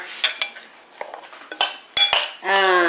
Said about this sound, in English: and then you beat the eggs here